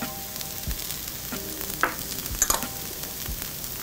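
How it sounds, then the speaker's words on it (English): Paprika, cumin, coriander, chili powder and garlic sizzle in a pan with softened onion and pepper for a shakshuka, a steady fry hiss broken by a few soft stirring scrapes and light clinks. "I'm ready to add my spices and my garlic to the onion and pepper mixture I've got here"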